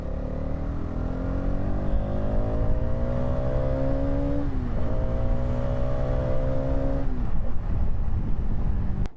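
A Hero Xtreme 250R motorcycle revs hard past its mid range, its engine note climbing steadily, dipping at a gear change, then rising again. It is loud and close, with wind rush and no speech.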